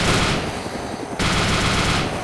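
Rapid automatic gunfire bursts from the Dynamic Zombie Sandbox tower-defence game, loud and continuous across the whole moment with a brief dip midway before the shooting resumes.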